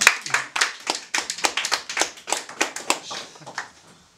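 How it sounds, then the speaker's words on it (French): An audience at a comedy show claps for a performer named Julie, a sparse group of distinct handclaps in a loose, uneven rhythm that thins out and fades toward the end. "On peut applaudir Julie."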